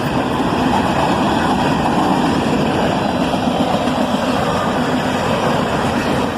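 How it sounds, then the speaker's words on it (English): A covered hopper freight train led by Canadian Pacific AC-44CW and BNSF ES-44DC diesel locomotives rumbles past close by, a loud, continuous roar of engines and rolling wagons with no talk. "A covered hopper train, led by a Canadian Pacific AC-44CW and a BNSF ES-44DC."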